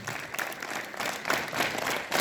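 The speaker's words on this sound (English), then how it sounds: "Clap together." Students at a school morning assembly clap their hands together: a brief burst of dense group clapping, steady and fairly loud, lasting about two seconds.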